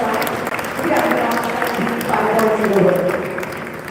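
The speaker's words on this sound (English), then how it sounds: "With a huge round of applause," Audience applause at the inauguration ceremony of Ahmedabad Design Week 5.0, a steady wash of clapping from a large crowd that holds loud and dense throughout, rising slightly toward the end.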